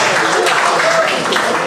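Audience clapping and cheering at a stand-up comedy show, a dense steady burst of applause filling the room for the full moment with scattered voices mixed in.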